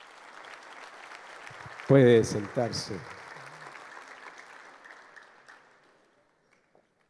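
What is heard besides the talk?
audience applauding the fathers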